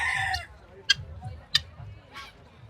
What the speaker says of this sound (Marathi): गिनी फावला आहे चिनी कोंबडी म्हणतात याला